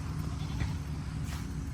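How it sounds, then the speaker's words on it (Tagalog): A goat in a field lets out a couple of faint bleats over a low rumbling background, with a brief call near the start and another soft one later. "Maraming mga kambing."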